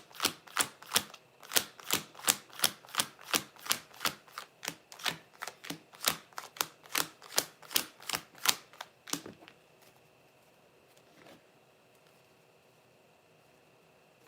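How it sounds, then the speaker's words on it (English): A tarot card deck is shuffled by hand, giving a steady run of about twenty crisp, evenly spaced clicks up close, then the sound stops and the room goes quiet. "Let me just shuffle out my deck real quick."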